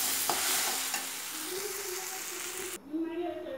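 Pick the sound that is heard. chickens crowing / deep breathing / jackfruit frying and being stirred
jackfruit frying and being stirred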